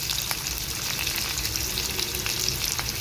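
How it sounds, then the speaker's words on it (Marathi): Chopped onion sautés in oil in a pan while masala dosa filling is made: a close, continuous hiss and sizzle with faint crackles and occasional stirring scrapes, and no talking. "कांदा थोडा परतत आला"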